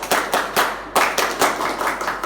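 A classroom group claps in unison in a quick rhythmic spirit-clap pattern, sharp bursts of many hands repeating in short groups, close and loud.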